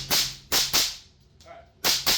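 Suppressed FN PS90 rifle fired outdoors at a range through a rare Gemtech P90 suppressor: several sharp, close pops in quick pairs with short decaying tails.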